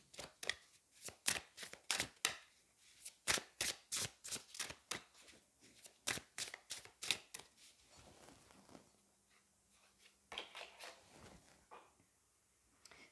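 Tarot cards are shuffled and drawn nearby, a series of sharp riffling bursts in quick succession followed by softer slides and taps as cards are laid out, with no talking.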